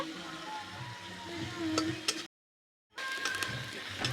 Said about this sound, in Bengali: পেঁয়াজ আর কাঁচা লঙ্কা কুচির সাথে আদা রসুন বাটাটা ভালো করে কষে নেব।